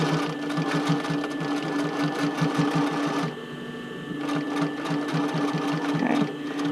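Sewing machine stitching a bra cup seam, running in steady rhythmic bursts up close with a brief pause midway before resuming, no voices over the mechanical chatter.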